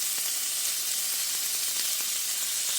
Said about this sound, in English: individually, I am putting each strip of bacon onto